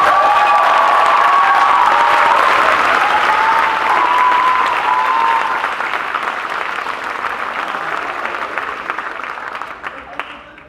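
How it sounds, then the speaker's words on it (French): Audience applause at a school circus and theatre show in a lycée hall, loud sustained clapping with some cheering that gradually thins and fades toward the end, with no talking over it. "Je voudrais qu'on les applaudisse."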